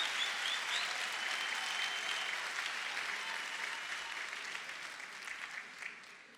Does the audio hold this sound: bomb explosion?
no